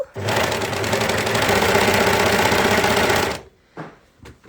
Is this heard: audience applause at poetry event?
no